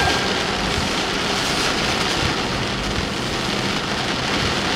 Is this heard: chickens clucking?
no